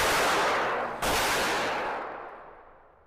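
A Glock 19X pistol is fired at a shooting range. Two loud, sharp reports sound about a second apart, each followed by a long booming echo that slowly fades out.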